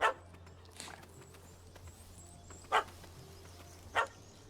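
A dog in The Witcher 3 gives a few sharp barks at well-spaced intervals, moderately loud over a steady low in-game ambient hum, with no voices.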